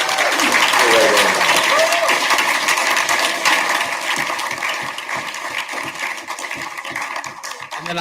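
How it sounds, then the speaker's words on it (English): Conference audience applauding a book's authors, a dense wash of clapping that is loudest at first and gradually thins and softens over about eight seconds, with no speech over it. "So I think a huge round of applause for Rona."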